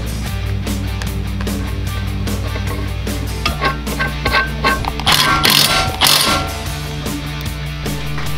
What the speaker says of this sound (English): Use a 7/16 tapping bolt on the oil sensor hose.